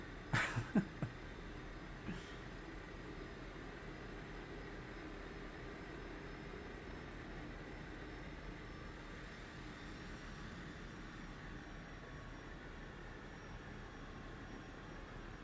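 Steady, low engine drone of a Cessna Grand Caravan turboprop taxiing in Microsoft Flight Simulator 2024, a continuous even rumble with a couple of brief clicks near the start and no talk.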